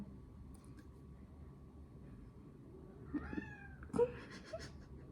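A house cat meows twice close by, a rising drawn-out call followed by a sharper, louder one, over a faint steady indoor hum.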